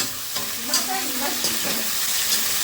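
Mutton frying in a pan for biryani, with a steady hiss of sizzling oil and intermittent scraping stirs, close and moderately loud.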